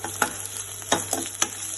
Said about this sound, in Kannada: ಸೊ ಹಸಿಮೆಣಸಿನಕಾಯಿ ಆ್ಯಡ್ ಮಾಡಿ ಸ್ವಲ್ಪ ನಾವು ಫ್ರೈ ಮಾಡ್ಕೊಳ್ಳೋಣ